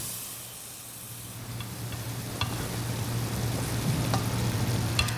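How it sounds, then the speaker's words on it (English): Marinated pork fries in a hot pan with a constant sizzle and hiss that slowly grows louder, broken by a few clicks from stirring, with no voices. "We are going to go ahead and cook our pork"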